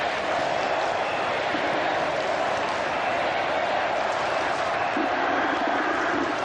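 A capacity crowd of about 40,000 at Eden Park for a 1992 World Cup cricket semi-final between Pakistan and New Zealand, a steady roar of murmuring and cheering that holds loud and unbroken throughout.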